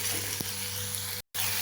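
Raw mango pickle mixture sautéing in oil for thokku, a steady close sizzle with faint low hum, one soft knock, and a brief dropout near the end.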